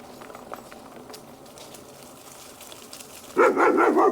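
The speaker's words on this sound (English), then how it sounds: "Ooh, big dog, scary dog." A big dog barks several times in quick succession, loud and fairly close, after a stretch of quiet outdoor wind noise in a windy bayside area of San Francisco.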